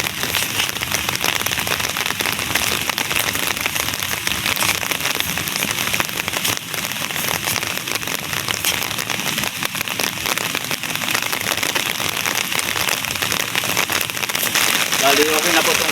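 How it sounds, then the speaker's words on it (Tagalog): Steady rain pours down in a rural yard by a vegetable garden, a continuous dense hiss of drops on surfaces with fine crackling patter, loud and unbroken throughout, with someone talking faintly beneath it. "umuulan-ulan na po"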